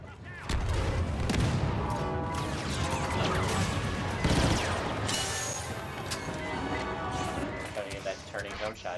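Star Wars Battlefront 2 combat on the Death Star, with dense, continuous gunfire, crashing impacts and a heavy burst like a grenade blast, all loud and close, while a player talks over the action.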